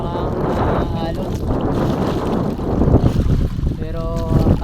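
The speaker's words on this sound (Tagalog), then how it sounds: "Malakas ang hangin at saka ang alon." Strong wind roars and buffets the microphone over rushing, splashing waves out at sea, with a voice speaking faintly underneath.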